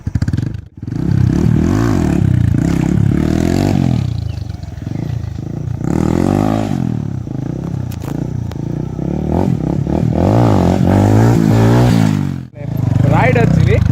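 A TVS Apache RTR 160 2V motorcycle revs hard during stunt practice, its loud, close engine roar rising and falling in repeated surges with brief dips between throttle blips.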